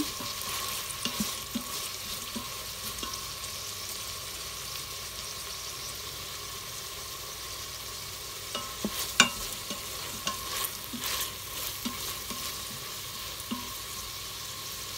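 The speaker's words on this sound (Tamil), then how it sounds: "இப்போ வெங்காயமும் பெல் பேப்பரும் வதங்கி கொண்டிருக்கிறது" Onion and bell pepper sauté gently in a pan, a steady low sizzle with faint scrapes of stirring and a few brief clinks near the end, with no talking.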